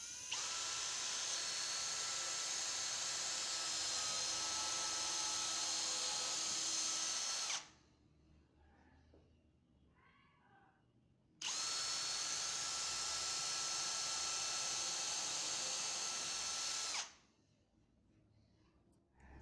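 A power drill bores a pilot hole in wood for a screw, whining steadily in two long, even bursts separated by a quiet pause, close and alone.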